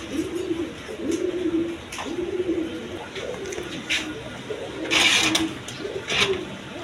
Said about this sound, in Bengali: খুব জাতের কবুতর